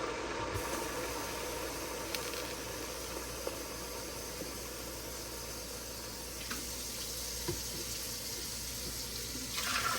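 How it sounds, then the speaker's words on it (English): A steady stream of water pours continuously into a soup pot for several seconds, a broad rushing splash with no talking. "I'm ready to pour 6 cups of water in there"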